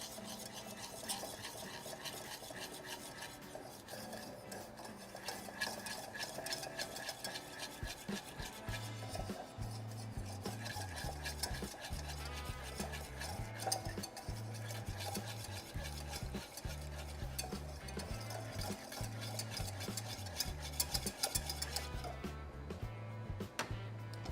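A wire whisk stirs a sweet lemon ricotta soufflé base in a pan on the stove, scraping and swishing steadily at close range. The continuous rhythmic strokes run throughout, with a faint low hum underneath.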